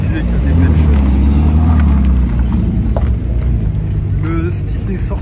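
A big V8 car engine rumbles loud and close at an outdoor car meet, a deep steady idle with slight swells, with voices talking nearby.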